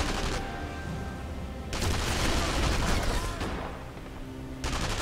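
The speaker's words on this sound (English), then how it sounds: "Where are people shooting at me from?" Gunfire rattles in rapid volleys in the video game Sniper Elite V2, in a street setting. The bursts come in two main waves, fairly loud against a constant background din, with no clear speech.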